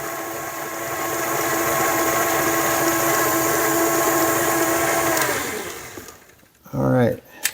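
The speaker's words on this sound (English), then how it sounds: "put that in the mixer and let that get mixed up" An electric stand mixer whirs steadily as it beats sugar and butter into skillet cookie dough, a continuous motor hum that winds down and stops near the end, followed by a brief clatter.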